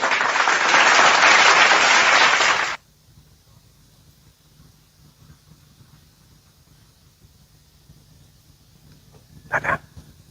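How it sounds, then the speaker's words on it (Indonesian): Loud burst of audience applause and clapping at the close of a religious sermon, lasting nearly three seconds before cutting to near silence, with a brief faint noise near the end. "Tepuk tangan kemenangan."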